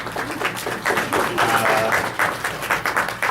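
Audience at a town hall workshop applauds the village mayor, a moderate, steady patter of clapping from a roomful of people throughout.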